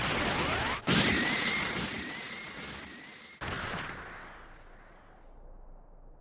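A Special Beam Cannon attack from the Dragon Ball Sparking Zero video game: a loud blast and crash with a rising whine, cut off by a brief gap, then a second burst that rumbles and fades.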